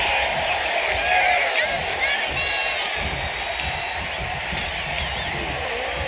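A wrestling arena crowd in the WWE 2K26 video game cheers and roars steadily, a dense wash of noise with faint whoops and a few sharp hits on top.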